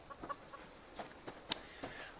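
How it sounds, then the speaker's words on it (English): A chicken in the survival video game Subsistence clucks in several short, soft bursts spaced irregularly, one sharper squawk standing out midway, over a quiet background. "And we're going to go and catch a chicken"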